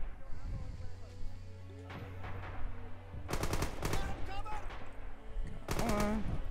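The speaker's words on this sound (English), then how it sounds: "There's some guy shooting at my bunker." Bursts of automatic and single-shot gunfire in the World War II shooter Red Orchestra 2, loud close volleys at several points over steady battlefield noise, with a player talking in between.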